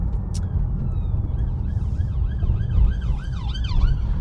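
A police car siren wails in rising and falling sweeps, growing louder over a steady rumble of road traffic, with no talk.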